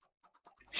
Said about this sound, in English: The chicken goes cluck.